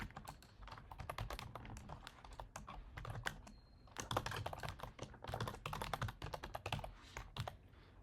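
Java code being typed on a computer keyboard: quiet, irregular clicking of keys in quick bursts with short pauses, close and soft, with no talking.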